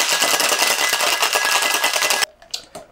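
Ice rattling hard in a cocktail shaker as an Irish whiskey drink is shaken, a dense rapid clatter that runs steadily for about two seconds, then stops abruptly, leaving a few faint knocks.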